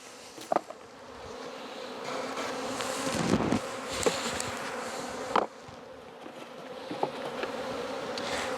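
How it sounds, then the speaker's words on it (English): A swarm of honeybees buzzes loudly and continuously as they are shaken from frames into a nucleus hive, with a few sharp knocks of wood among the steady hum. "shake the bees in."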